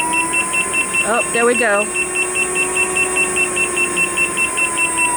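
Rapid, evenly spaced level-3 speed warning beeps repeat steadily over a running engine hum, while a person speaks briefly.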